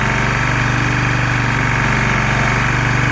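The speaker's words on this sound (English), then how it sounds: "You can hear the engine" An old Lombardini 6LD260 diesel engine, unused for ten years, idling close by with a steady, loud, rhythmic low chugging and a constant mechanical drone.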